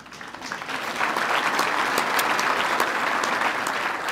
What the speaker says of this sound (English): A round of applause for our supporting sponsors.